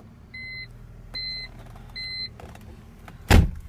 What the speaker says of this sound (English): Crank it up, gives you all the warning.